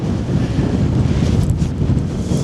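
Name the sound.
strong wind on a hilltop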